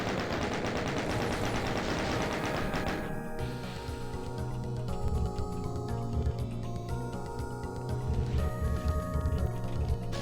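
Gunfire in Doom II during a PC playthrough of the Ancient Aliens WAD: dense rapid shots and loud overlapping blasts rattle continuously, with heavy booming bursts among the chaotic game sounds and no talking.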